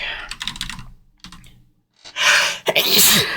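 A sharp, loud sneeze bursts out near the end after bouts of clattering keyboard typing and a short silence, close to the microphone during a tabletop gaming session.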